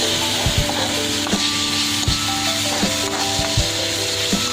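Vegetable fried rice being stir-fried street style after soy sauce and Schezwan sauce go in: constant loud sizzle with periodic scraping strokes of a spoon against the pan, close up, with a low steady hum beneath.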